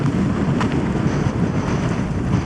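Wind gusts buffet the microphone in a steady, rough roar, with low rumbling surges swelling and easing throughout.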